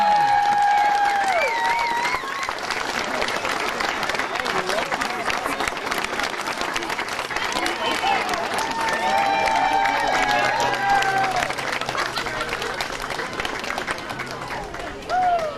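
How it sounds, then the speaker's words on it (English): A large crowd at an outdoor park event applauds and cheers for a long stretch, loud continuous clapping with whoops and shouted voices layered on top. "how about a warm round of applause for Mrs. Carol Baldwin, her children, and he"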